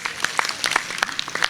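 Applause from a seated audience at a university stage event, a thin, steady patter of scattered claps at moderate distance with a faint voice underneath.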